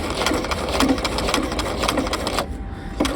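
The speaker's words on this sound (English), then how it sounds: "I'm just sewing with my 5/8 inch seam, or sorry, 1/2 inch seam allowance right along the edge of that canvas." A sewing machine runs steadily, stitching a half-inch seam allowance along the edge of a half-scale jacket's canvas, loud and close with a rapid needle rhythm, briefly stopping near the end before starting again.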